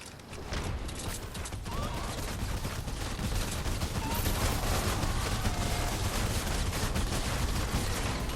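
Gunfire aimed at smashers in Fortnite Save the World rattles on as a dense, rapid barrage that runs loud and unbroken through the whole stretch, with clanking game effects mixed in.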